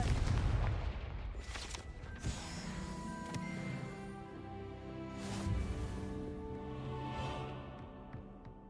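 A Confringo blasting spell goes off in Hogwarts Legacy: bursts and booms spread over several seconds, with ringing, tonal magic effects and a rumbling background.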